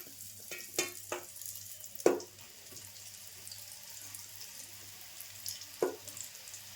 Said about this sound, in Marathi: आता भेंडी तळून घेऊया.